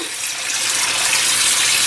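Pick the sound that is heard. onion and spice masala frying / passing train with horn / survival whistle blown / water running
water running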